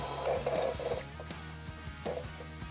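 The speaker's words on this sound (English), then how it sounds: "We'll drill these holes out to 5/8 of an inch." A power drill whirs steadily for about a second drilling a heat shield out to 5/8 inch, then stops, followed by a few light clicks and a short second burst of drilling.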